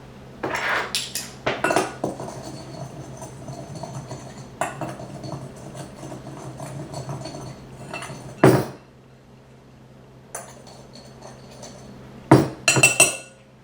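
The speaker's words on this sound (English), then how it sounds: "And stir." Spices such as paprika stirred in a bowl for a Cajun steak quesadilla, a spoon clinking and scraping against the dish in irregular bursts with quieter stretches between, close and alone.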